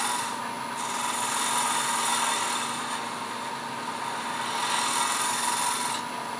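Dremel rotary burr texturing and concaving the centre of a wood turning, a continuous close grinding rasp with a steady high whine, swelling slightly at times, no talk.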